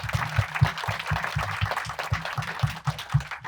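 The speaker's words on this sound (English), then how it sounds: "So you should give him a round of applause." An audience at a Q&A with a cinematographer applauds steadily, dense rapid clapping at moderate volume with no talk over it.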